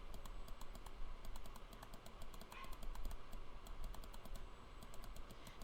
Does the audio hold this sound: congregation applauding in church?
no